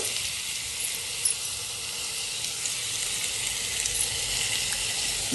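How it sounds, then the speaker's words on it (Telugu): Chicken fries in a pan for chicken curry, giving a steady close hiss of sizzling that goes on unbroken, with a few small pops and no talking. "చికెన్ బాగా వేగుతుంది"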